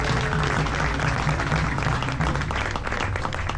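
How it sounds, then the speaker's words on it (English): A loud crowd applauds a princess and her bridegroom-to-be at a Fijian cultural show in Oahu, a dense, continuous wash of clapping close by that holds at full strength throughout. "Ladies and gentlemen, about a round of applause for our princess and the bridegroom to be"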